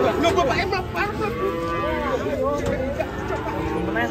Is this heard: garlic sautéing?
no